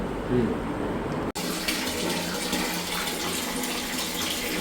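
A tap runs steadily into a sink while items are washed, a close, full gush of water that starts abruptly after a brief murmur of voices and a knock.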